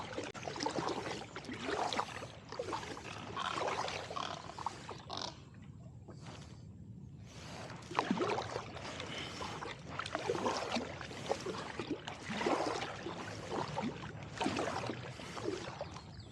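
Kayak paddle strokes dipping and pulling through very shallow, low water on a Florida paddle near Tampa, a steady series of splashy, sloshing strokes close by, with a brief quieter pause midway before the rhythm resumes.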